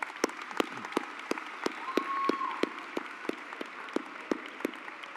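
Graduation audience applauding at a high school graduation ceremony: steady rhythmic clapping with sharp evenly spaced claps over a soft crowd wash, a faint brief voice in the middle.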